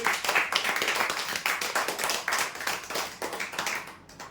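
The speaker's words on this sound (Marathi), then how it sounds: "जोरदार टाळ्या होत्या" Enthusiastic applause from an audience at a weekly lucky-draw prize announcement: dense, steady clapping that carries on for several seconds, then thins and fades near the end.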